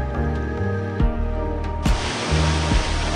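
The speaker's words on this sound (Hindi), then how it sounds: "यह है एक सुंदर सा झरना जिसका नाम हमें पता नहीं" Waterfall in the mountains of North Sikkim, a steady broadband rush of falling water filling the scene, with brief louder surges and some low rumbling, no voices heard.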